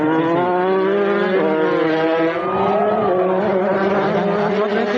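Race cars at the Elf Midday Racing event in 1999 fill the air with a loud, continuous engine drone whose harmonic pitch rises and falls as the cars rev and shift through the whole stretch.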